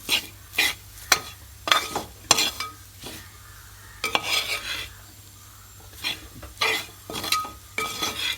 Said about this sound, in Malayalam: കുറച്ച് മസാലപ്പൊടി, നന്നായി മൊരിച്ചെടുക്കാം.